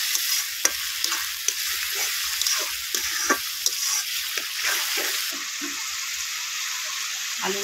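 Flat beans with tomato and turmeric are stirred in a frying pan. Repeated scraping and clacking of the spatula rise over a constant close sizzle.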